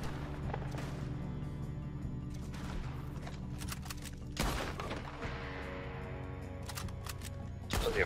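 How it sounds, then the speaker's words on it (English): Gunfire in Red Dead Redemption 2 Online: a dense, continuous fusillade of shots under a steady game background, with several sharper, louder bursts standing out near the middle and end. "They're firing."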